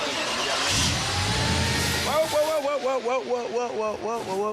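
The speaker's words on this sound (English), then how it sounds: "start the motor, please" A car motor cranks and catches, its low rumble rising over roughly two seconds before settling into a running engine, while voices shout loudly over it close by.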